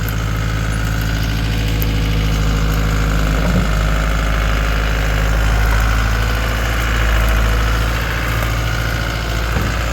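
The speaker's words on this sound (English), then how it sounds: "Found a wild skid steer in its natural habitat." A skid steer engine runs steadily in woodland where trees are being cleared, a loud, close, rumbling drone with faint knocking and a couple of dull thumps.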